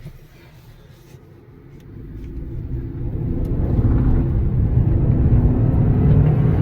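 A Hyundai Santa Fe XRT pulling away after being shifted into drive, engine rumble swelling from a low idle into a steady, louder cabin drone heard from inside.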